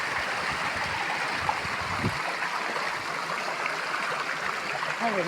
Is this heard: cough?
no